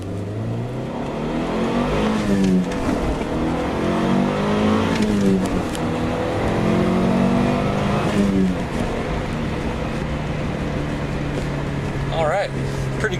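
A Mitsubishi Lancer Evo III with its 270-horsepower 4G63T turbo four-cylinder and all-wheel drive accelerates hard from inside the car, engine pitch rising through several gear pulls with brief drops at the shifts, loud and continuous under occasional talk.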